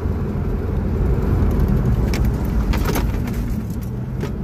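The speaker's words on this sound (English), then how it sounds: "the Capri is going 80 kilometers an hour in fourth" A manual Ford Capri, a cheap car that had been sitting, cruises steadily at about 80 km/h in fourth gear, with a loud, continuous low engine drone and road and wind roar heard from inside the cabin.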